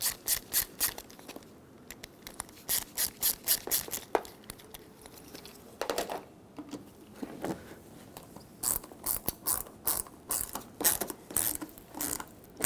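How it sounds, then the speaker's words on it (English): Screws are backed out of a side cab roof light on a 2007-2014 Chevrolet Silverado 2500 HD, producing close, quick bursts of ratcheting clicks separated by short pauses. "I'm going to unscrew these a little bit"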